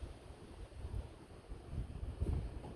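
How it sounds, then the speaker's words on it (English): Strong hurricane wind gusts from Hurricane Ian battering a house with a broken roof tie-down pipe, a continuous low roar swelling and easing in waves, loudest near the end, with no talking. "I get another good gust."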